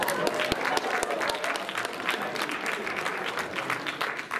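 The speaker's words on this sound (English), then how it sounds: "Let's give him a round of applause, though." A crowd at a Wisconsin post-prom event gives a steady round of applause, dense and sustained throughout, with scattered sharper claps and faint crowd noise mixed in.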